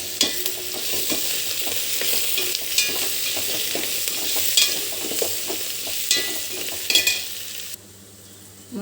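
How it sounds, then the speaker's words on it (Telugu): Coriander and mint being stirred into frying mutton for biryani, a continuous close sizzle broken by repeated spoon scrapes against the pot, cutting off abruptly near the end. "పుదీనా వేసి కలబెట్టుకోవాలి."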